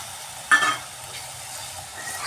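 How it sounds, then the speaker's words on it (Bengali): Spiced masala sizzling in a pan as yogurt goes in for egg tikka masala, a soft burst of frying hiss and stirring near the start, then a steady low sizzle. "মশলাটা খুব সুন্দর কষানো হচ্ছে"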